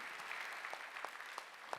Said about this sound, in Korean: 박수야. 잘되고 오래 산다.